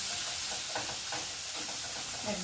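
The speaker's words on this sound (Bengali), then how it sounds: "মাছটা একটু ভালো করে ভেজে নেব" Parshe fish fry in hot oil in a pan with a steady, close sizzle and hiss that runs unbroken throughout, with soft bubbling pops and no voices.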